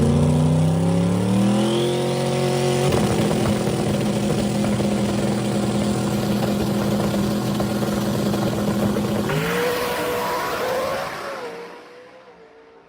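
A turbocharged drag race car accelerates hard down a Cecil County strip at over 220 mph, a loud rising engine roar that climbs through gears, holds at full power, then fades away into the distance.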